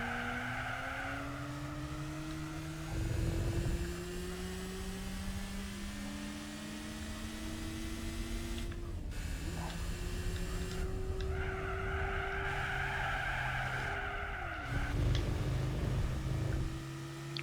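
Engine of a slow road car lapping the Laguna Seca track in Gran Turismo 4, a steady droning whine that climbs in pitch and drops at each gear change, with recurring rougher bursts, continuous and close.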